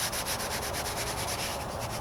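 Hand wet sanding of a white rattle-can painted hood on a 1998 Toyota Corolla, a close, steady rhythmic rubbing with quick repeated back-and-forth strokes, no talking.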